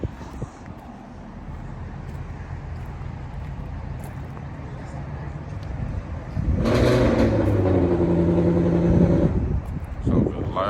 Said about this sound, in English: It's that damn new Mustang